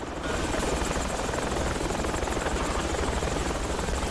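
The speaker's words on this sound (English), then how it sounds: "I can't hear over that fucking chopper." A helicopter in the military video game Project Reality roars continuously and loudly at close range, its dense rotor and engine noise filling the entire stretch without a break.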